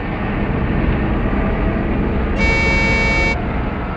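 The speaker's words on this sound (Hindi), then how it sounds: "ट्रक की आवाज? ट्रक जंगल में?" A truck drives through a jungle with a steady close rumbling engine, and a sustained horn blast of about one second sounds over it.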